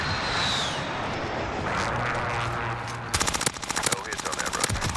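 Call of Duty Warzone match with an airstrike called in: a steady aircraft-like roar for several seconds, then rapid, dense bursts of automatic gunfire that dominate the final stretch.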